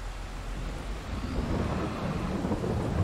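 Steady rain with a low rolling rumble of thunder plays in Farming Simulator 22 during a cultivation job, a continuous wash of stormy noise with no voices.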